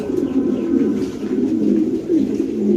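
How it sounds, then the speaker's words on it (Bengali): White Bombay pigeons coo close by in a loud, continuous low murmur with rising and falling rolls. "আমরা একটু নিচে সাইডে কবুতরের ডাকটা দেখাবো"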